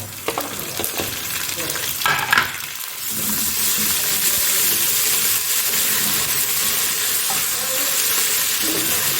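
Steady loud sizzling of aromatics frying in a hot pan, with a few utensil scrapes and clinks early on before the frying settles into a continuous hiss.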